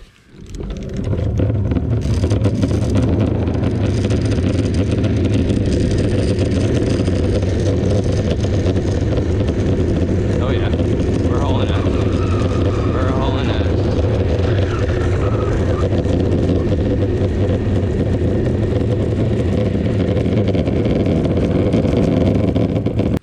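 A homemade electric ride-on cooler rolling along, giving a loud steady motor drone and road rumble with heavy wind buffeting the microphone, continuous and unchanging for the whole ride.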